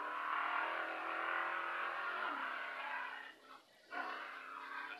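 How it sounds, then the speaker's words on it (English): Race car engine at full throttle on a lap at a track event, a loud sustained high-revving drone heard from inside, briefly dipping as it shifts before surging again. "Full throttle. Full throttle."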